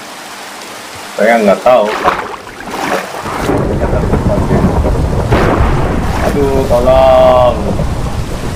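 Steady rain and rumbling thunder fill a night scene in the video game Minecraft, the downpour hissing continuously while someone talks over it in an anxious voice.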